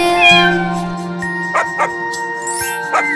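A kitten meows in a cartoon lullaby, with a sustained low tone early on and then a few short, bright mews near the end over soft tinkling musical tones.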